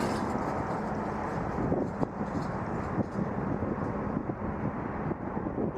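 Strong wind buffets the microphone at Toronto Pearson airport on a cold night, a loud broadband rushing roar with gusty swells and occasional thumps, carrying faint aircraft noise beneath.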